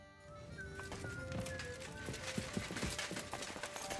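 A horse's hooves clip-clop in Kingdom Come: Deliverance II, a steady walking rhythm of soft thuds growing slightly louder, with birdsong and a tonal ambient bed underneath.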